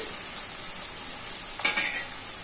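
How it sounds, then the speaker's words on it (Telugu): Toor dal and chana dal fry in oil with green chillies, giving a constant hissing sizzle. One brief stir or scrape comes midway, with no voices. "శనగపప్పు బాగా కొంచెం ఎర్రగా అయ్యే వరకు వేయించుకోవాలి"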